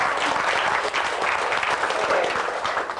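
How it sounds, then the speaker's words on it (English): Dinner audience in the Illinois Disciples Foundation 2002 gathering applauding steadily, a dense, sustained wash of many hands clapping at close range throughout, without pause. "thank you for all your applause"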